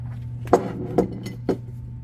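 Steel balls clink into the housing of a 1/2-inch air impact wrench (231 model) during assembly: three sharp, small metallic ticks about half a second apart over a steady low hum.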